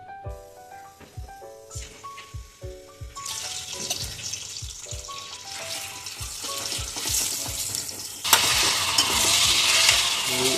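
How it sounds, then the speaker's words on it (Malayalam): Chicken fries in oil for a Kerala chicken molly, a hissing sizzle that swells in two stages and grows loud near the end, mixed with plucked, rhythmic background music. "കുറച്ച് എണ്ണ ഒഴിച്ച് ഇതൊന്ന് വറുത്തെടുക്കാം"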